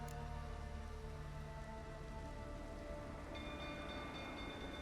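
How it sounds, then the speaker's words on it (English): Steady rain pours down in The Witcher 3, a broad, even hiss of drops on surfaces that fills the whole stretch at constant loudness, with a low rumble and tonal game sounds layered underneath. "Looks like rain."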